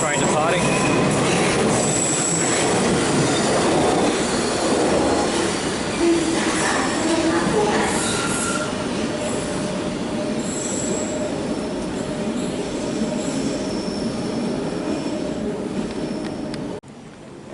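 A London Underground District Line train creeps slowly into a station platform, with sustained rumbling and high wheel squeals, loud and close before the noise cuts off at the end.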